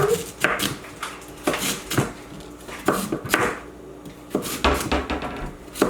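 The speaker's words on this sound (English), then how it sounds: "So we're going to go for the smaller knife. So you're just going to chop them." Vegetables being chopped with a smaller knife on a board, sharp irregular knocks in short clusters, close up, with faint kitchen clatter between strokes.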